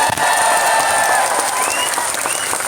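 A crowd at a large Islamic religious gathering (pengajian) in Taichung, Taiwan claps steadily in a dense, continuous burst of applause, near and loud throughout.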